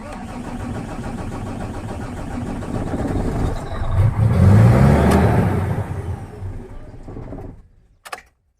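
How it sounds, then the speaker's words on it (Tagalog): A Fuso 6M70 tractor head truck with a hard-starting fault cranks and turns over, the engine noise swelling for several seconds before dying away into quiet. "Start engine. Try natin pandarin."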